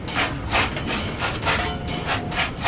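An A4 class steam locomotive, Union of South Africa, in Train Simulator 2018, rumbles along steadily with rhythmic bursts of chuffing or clattering, a broadband hiss over a low roar, fairly loud and continuous.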